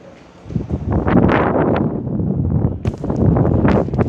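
Strong morning wind at the seaside in Taipei buffets the microphone in loud, irregular rumbling gusts that swell and ease.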